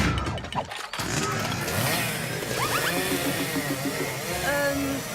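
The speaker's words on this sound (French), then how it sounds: "C'est la tâche parfaite pour mon tournevis supersonique numéro 9." A cartoon supersonic screwdriver number 9 whirs and warbles with rising, wobbling electronic tones over a busy layered backdrop, after a short burst of clattering at the start.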